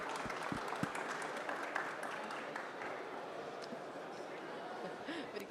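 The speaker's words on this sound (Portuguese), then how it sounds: "Aí, palmas para o Adolfo." An audience at a liberty forum debate claps, a steady wash of applause sustained over several seconds with faint chatter beneath, fairly soft and diffuse.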